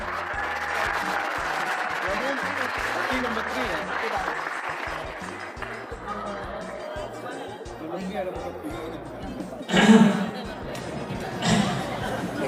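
Applause for beauty pageant contestants on stage, a crowd clapping amid chatter and voices of people talking, fading into hubbub with a couple of louder thumps near the end.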